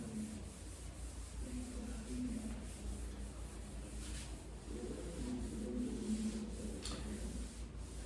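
A board is rubbed to wipe away writing during a physics lesson, a soft, steady scrubbing that continues in long strokes at low volume, with faint voice-like hum in the background.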